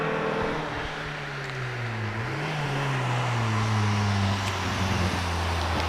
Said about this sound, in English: Rob Guttridge in the Twingo, being tuned to make it go much quicker